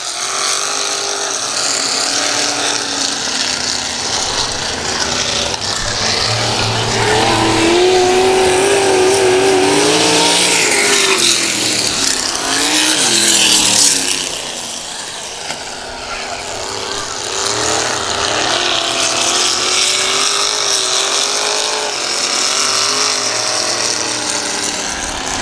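Super modified race cars at a night event of antique and vintage racing scream around a speedway. A loud, continuous, rising and falling engine roar swells as the cars pass close, and an announcer talks under part of it.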